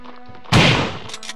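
A shotgun in Resident Evil goes off once with a loud, sharp blast that dies away quickly over a quiet background hum, followed by a couple of faint clicks.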